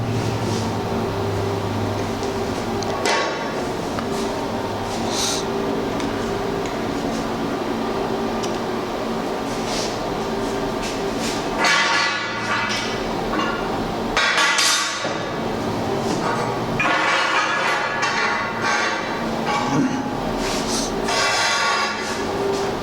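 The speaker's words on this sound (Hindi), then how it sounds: "अभी मैं आपको वेल्डिंग करके दिखाता हूँ कि वेल्डिंग इससे कैसे की जाती है" Arc welding joining two metal parts, a continuous loud crackling buzz with brief gaps where the arc stops and restarts, heard close and alone.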